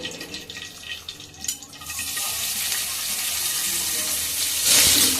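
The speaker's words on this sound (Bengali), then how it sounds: "এখন দিয়ে দেবো কেটে রাখা পেঁয়াজগুলো" Chopped onions drop into hot oil and burst into a loud, spreading sizzle that swells and holds steady after a few soft handling noises.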